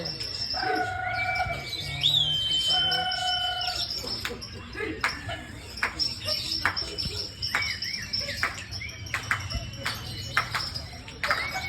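Lovebirds sing at a bird song contest, with bright chirps and rapid trilling calls in bursts over a steady insect-like buzz, and faint crowd noise in the background.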